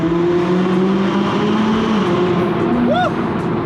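McLaren 570GT accelerating hard through a tunnel, a loud continuous exhaust drone with a rising turbo whistle near the end, reverberating in the enclosed space.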